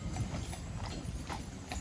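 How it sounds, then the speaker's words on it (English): Hooves of King's Troop Royal Horse Artillery horses clip-clop on the road as the mounted regiment arrives at a Trooping rehearsal in pouring rain, many hoofbeats overlapping in a continuous, moderately close clatter over steady background noise. "So here you can see King's Troop Royal Horse Artillery arriving."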